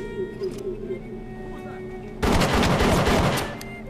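A loud burst of wild gunfire from BioShock rings out at close range in the Arcadia level. It comes after a quieter stretch of low hum and ambient tones and fades out after about a second and a half.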